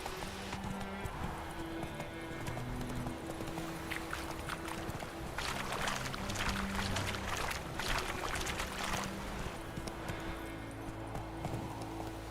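Horse hooves clip-clop at a steady trot in the video game The Witcher, a continuous rhythmic clatter over background music and ambience, with a brief burst of louder rustling midway.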